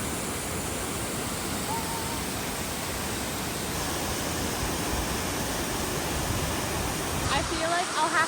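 A loud, partly frozen waterfall in winter roars nearby as a dense, unbroken rush that fills the whole clip, with a voice briefly heard underneath.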